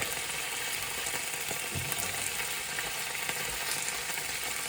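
Chicken pieces sizzle steadily in a hot frying pan, a dense crackling hiss with occasional faint clinks, no voices.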